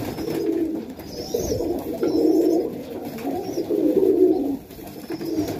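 A highflyer pigeon coos in a loft, with several soft, low rolling coos repeating close by and no talk.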